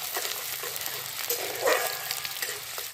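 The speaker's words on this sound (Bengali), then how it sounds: "দিয়ে ভালো করে আগে একটু ফ্রাই করে নেব।" Chopped onions sizzle loudly in oil and ghee while they are stirred, the frying swelling briefly midway with the scrape of a spoon over the pan.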